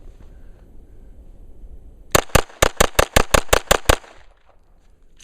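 Kimber 1911 .22 rimfire conversion pistol firing CCI Stinger rounds outdoors in the cold: ten sharp, close cracks in a quick, fairly even string lasting about two seconds, followed by quiet.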